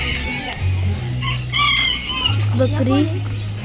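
Chickens cluck and a rooster crows nearby, with a loud low hum running underneath and bursts of bird calls.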